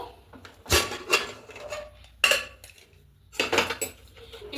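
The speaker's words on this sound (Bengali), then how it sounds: "এবার প্রেশারের মুখটা ঢাকাটা আটকে নিয়ে এটা আমি তিনটে সিটি করে নেব" A pressure cooker lid is fitted and locked shut with a few sharp metallic clanks and rattles, grouped in three bursts with quiet gaps between them.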